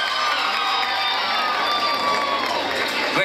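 A festival crowd at a village fiesta in Baltasar Brum cheers and applauds for a gaucho singer from Rivera who has just finished a polka. The sound is a steady, dense wash of cheering and shouts that holds for the whole stretch.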